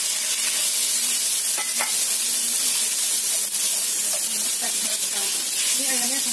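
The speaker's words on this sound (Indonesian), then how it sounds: "Saya tumis duluan juga ayamnya." Chicken pieces stir-fried in a little oil for Javanese fried noodles, with a steady close sizzle throughout and occasional clinks and scrapes of a spatula against the pan.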